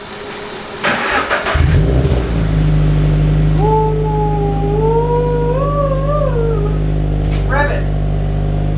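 A Subaru BRZ fitted with a FactionFab catback exhaust cold-starts with a short crank, then catches into a loud, deep, steady idle while people talk over it.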